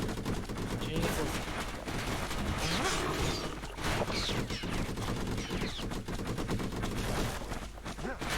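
Dense, continuous gunfire from the Bastion video game, with rapid overlapping shots forming a loud, sustained volley that runs through the whole stretch.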